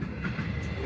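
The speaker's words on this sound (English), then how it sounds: "Look at that, big train." Big train rolling past in outback Western Australia between Kalgoorlie and Leonora, a brief steady rumble heard from a nearby car.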